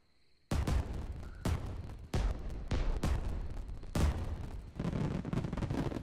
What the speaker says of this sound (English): So yeah, fireworks.